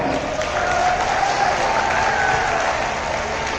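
A live audience at a poetry event in Chitrakoot applauds loudly and steadily throughout, a thick, unbroken wash of clapping with faint crowd murmur beneath it.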